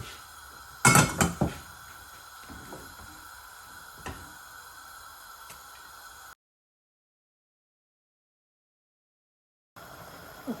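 Cooked rice is stirred into melted white sugar in a pan for bibingka, with a quick cluster of sharp utensil clinks against the pan, then faint scraping and a silent stretch near the end.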